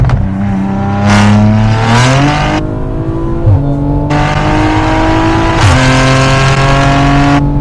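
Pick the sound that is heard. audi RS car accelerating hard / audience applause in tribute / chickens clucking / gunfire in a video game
audi RS car accelerating hard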